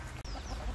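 Chickens clucking while pecking at dried coconut scattered on the ground, soft close clucks over steady farmyard background, very brief.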